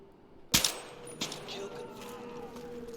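A single sharp rifle shot rings out in Battlefield 3, a loud close crack followed by a fainter second report and a lingering echo, with a voice talking faintly underneath.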